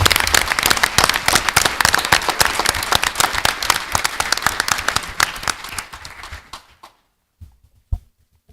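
School board meeting audience applauding National Merit finalists: dense, loud clapping from many hands that thins out and fades after about six seconds, leaving a few scattered final claps.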